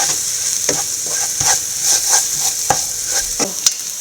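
Egg and grated coconut are stir-fried over a very low flame in a pan for a drumstick and egg thoran, giving a steady close sizzle with repeated scraping strokes of a spatula and no talking.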